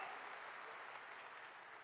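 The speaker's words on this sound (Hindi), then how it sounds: "मैं आपका अभिनंदन करता हूं, जोरदार ताली बजा करके।" An audience at a Gujarat water conservation public event claps, a dense even burst of applause filling the brief moment without talk.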